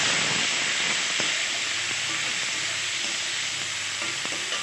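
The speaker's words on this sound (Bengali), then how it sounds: "এখন আমি মটরশুঁটিটা দিয়ে দেবো।" Green peas tipped into a pan of fried potatoes set off a steady, close sizzle with a soft hiss, punctuated by a few faint clicks of stirring; no voices.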